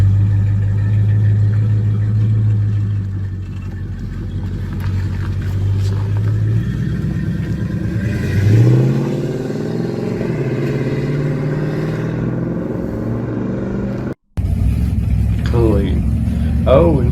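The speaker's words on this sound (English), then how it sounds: "Beautiful, good exhaust sound." A vintage 1960s–70s V8 muscle car idles with a deep, rumbling exhaust, then revs up in a rising surge before settling back to a throbbing idle, loud and close.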